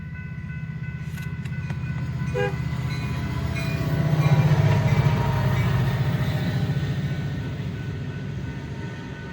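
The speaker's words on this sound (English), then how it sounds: "another loaded coal train." A loaded BNSF coal train rolls past on the Staples Subdivision in Detroit Lakes, Minnesota, a steady heavy rumble of wagons building to a peak mid-pass, with a brief horn toot early on over the continuous rail noise.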